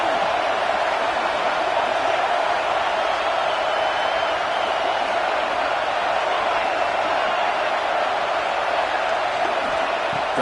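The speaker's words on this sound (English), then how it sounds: "this home crowd is fired up and ready to make a difference" A home stadium crowd roars steadily in College Football 25, a loud, unbroken wash of cheering and noise with no clear peaks, filling the whole stretch evenly.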